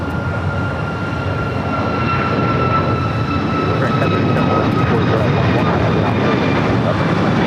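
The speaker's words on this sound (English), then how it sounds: "A350-900, short final for 24 right" An Airbus A350-900 airliner on short final approach to runway 24 right at LAX, a loud, steady jet roar with faint high engine tones, continuous throughout.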